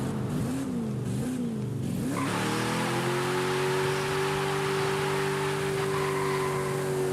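A Subaru car engine in Forza Horizon 5 revs hard and climbs steadily in pitch, then holds a loud, sustained drone close up, with no voices.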